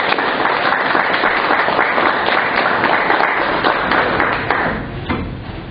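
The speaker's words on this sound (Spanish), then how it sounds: "démosles un fuerte aplauso." Loud, sustained applause from a church congregation at a Spanish-language sermon, dense clapping filling the space for several seconds before tapering off near the end.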